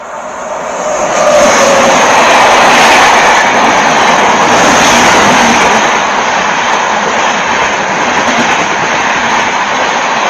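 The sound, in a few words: train passing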